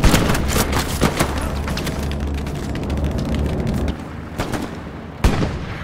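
Rapid bursts of explosions and gunfire in the WWII shooter Hell Let Loose at Foy, dense overlapping blasts and cracks, with a sharp close boom near the end after a brief lull.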